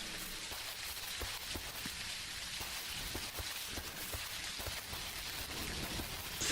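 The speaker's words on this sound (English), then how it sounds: "Hey, rain." Steady rain pattering on surfaces in the video game Mangrove Isle, a constant hiss with scattered distinct drop ticks, moderately quiet and continuous with no talking.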